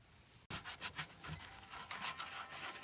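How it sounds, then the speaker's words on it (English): Worn teak trim on a sailboat anchored in a quiet cove is sanded by hand, a steady close scratchy rasp of quick back-and-forth strokes lasting a few seconds. "Sanding down some of the teak."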